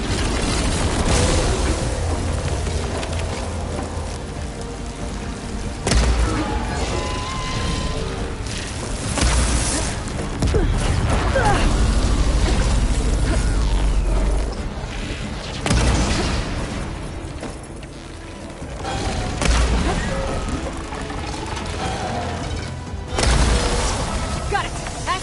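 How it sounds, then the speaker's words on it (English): Explosions and booming mechanical crashes from a machine battle in Horizon Forbidden West, repeated heavy blasts across a dense, continuous game soundscape. "It's gonna explode any second!"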